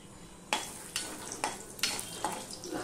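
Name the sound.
dried red chillies and cumin sizzling in hot oil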